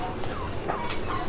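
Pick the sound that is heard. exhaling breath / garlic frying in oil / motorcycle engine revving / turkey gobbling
turkey gobbling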